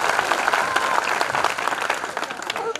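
An audience at a Hindi poetry recital (kavi sammelan) claps, a dense burst of applause from a crowd, fairly close and continuous for a few seconds.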